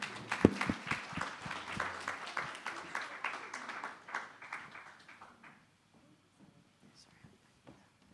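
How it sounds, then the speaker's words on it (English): Symposium audience clapping to welcome a panel, loud at first and then tapering off over several seconds into near quiet, with a few scattered claps and soft voices at the end. "So a round of applause, please,"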